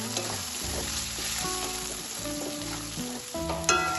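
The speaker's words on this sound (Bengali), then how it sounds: "চিংড়ি মাছটা তেলে ভেজে নেব ভালোভাবে" Small shrimp fry in hot oil with a continuous crackling sizzle close by, broken by scraping stirring sounds and a brief clink near the end.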